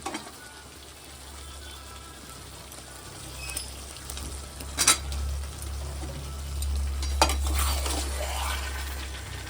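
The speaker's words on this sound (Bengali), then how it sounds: "এবার দিয়ে দিচ্ছি আলু" Potatoes go into a pan of frying chicken curry, bringing soft background sizzling with a couple of sharp clinks and scrapes of a utensil against the pan and a low steady hum underneath.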